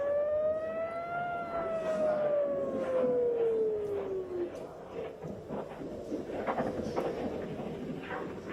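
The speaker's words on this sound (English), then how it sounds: "We heard the air raid siren" An air raid siren wails over Tel Aviv at night, one long rising and falling tone that is loud and steady for about four seconds before fading into a rumbling, noisy outdoor background.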